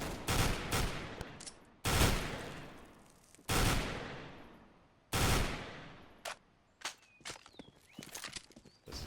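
Gunfire in Counter-Strike: four loud, close bursts with ringing tails, then a quicker string of sharper single shots and clicks, with no talk.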